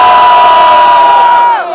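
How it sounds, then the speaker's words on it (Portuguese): Loud crowd at a freestyle rap battle cheering and shouting in a single sustained burst for one contestant, fading slightly at the end. "Bom, pronto, barulho Johnny"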